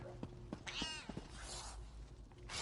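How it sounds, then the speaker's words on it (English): A cat meows in The Elder Scrolls Online, several short, faint mewing calls in quick succession, with a longer drawn-out meow in the middle. "Hey, what's that cat?"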